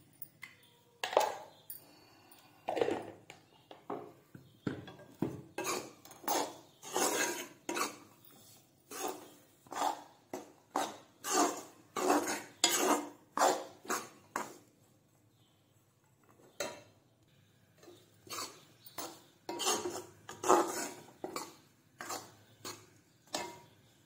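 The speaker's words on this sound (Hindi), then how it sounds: "इसे अच्छे से भून लेते हैं अभी।" Atta flour is roasted in a pan with crushed cashews and almonds, a spoon knocking and scraping against the metal in a steady run of stirring strokes, with a short pause midway before the clatter resumes.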